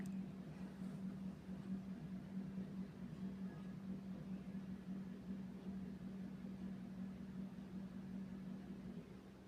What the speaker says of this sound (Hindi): अब हम चारों तरफ से सिलाई करेंगे